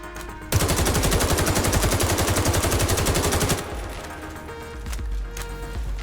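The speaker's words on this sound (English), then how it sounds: "the firing sound, oh my goodness, it's absolutely amazing" Rapid automatic fire from the M4A1 Custom assault rifle in Warface: a loud, sustained burst of evenly spaced shots lasting about three seconds, then a fading echo and quieter game ambience.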